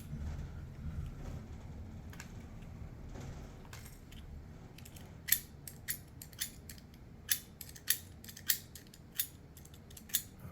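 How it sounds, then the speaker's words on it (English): Enamel-coated copper wire being scraped for a 4:1 current balun on a toroid, heard as a quiet low rumble and then a run of sharp, rhythmic metallic scratches and clicks close by. "What we're going to do is scrape the enamel off of the copper"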